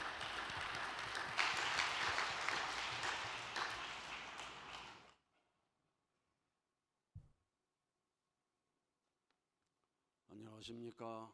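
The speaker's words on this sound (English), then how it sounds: "Let's welcome him up with a big round of applause." Audience applause at a vigil gathering, dense and steady for about five seconds before cutting off into near silence, followed by a brief knock and then a voice speaking at the end.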